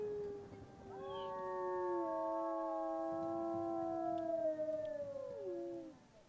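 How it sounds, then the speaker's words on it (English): Several wolves in the WolfQuest video game howl together, long smooth tones layered in a chorus that swells, holds for several seconds, then slides downward and fades, with no talking over them. "You have a beautiful howl, Bingo."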